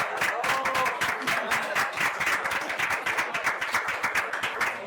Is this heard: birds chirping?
no